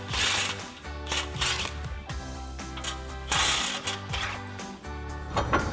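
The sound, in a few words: torsion tool being undone on Silverado 2500 torsion bar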